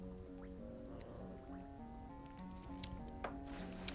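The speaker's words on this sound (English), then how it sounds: "the water's really steaming hot" Hot, steaming water in Donkey Kong 64 drips and bubbles in soft, irregular liquid plops over a low, sustained game music bed.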